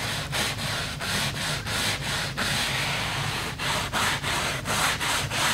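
A brush scrubs the stitching of a leather car seat in quick back-and-forth strokes, a close, steady rasping rub with brief pauses between passes and no speech.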